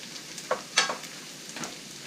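Chinese sausage fries in a pan as its fat renders out, giving a soft steady sizzle with a few brief crackling pops and spatters, close and fairly quiet, with no talking.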